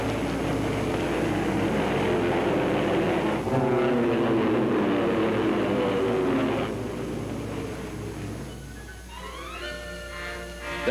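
A WWII combat airplane flies past with a loud, rough engine drone that swells and fades, and a rising whine near the end, with no talk over it.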